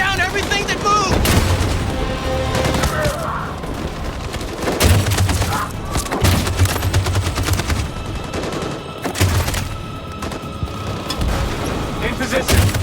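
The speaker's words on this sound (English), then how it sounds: "That machine gun is taking down everything that moves!" Sustained automatic machine-gun bursts rattle through a battle scene in the video game Detroit: Become Human, loud and close, layered with booming impacts and voices shouting under the gunfire.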